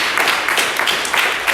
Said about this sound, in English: let's give the Boston guys a round of applause for showing up